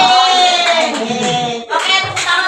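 A group of people clapping for the winners of a classroom board game session, a dense burst of applause that dips briefly and picks back up, with cheering and talk mixed in.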